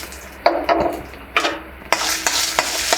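Red chilies, coriander seeds and cumin dry-roast together in a pan, with rhythmic scraping stirs and a dry rustling crackle repeating every half second or so, close and alone without talk.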